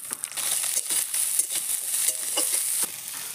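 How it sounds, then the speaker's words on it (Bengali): Boiled soybeans fry lightly in hot oil with salt and turmeric in a pan over a wood-fired clay stove, giving a continuous bright sizzle broken by scraping stirs. "সোয়াবিনটা আমি লবণ হলুদ দিয়ে ভেজে নেব হালকা করে।"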